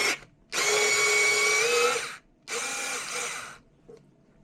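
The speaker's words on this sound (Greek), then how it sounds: "για να ξεβιδώσουμε τις Torx βίδες που συγκρατούν το πάνω μέρος του φιλτρόπου του" A Parkside 4V cordless electric screwdriver backs out Torx screws holding the top of a filter housing, whirring in two sustained bursts of about one and a half seconds each, close up and clear with no talking.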